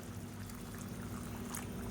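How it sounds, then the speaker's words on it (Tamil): Hot water poured into a simmering paneer gravy on the stove, a soft continuous liquid splashing and bubbling, faint and close, with no talk. "இந்த ஸ்டேஜில் தண்ணி சேர்த்துக்கலாம். நல்லா சூடான தண்ணியாக சேர்த்துக்கோங்க."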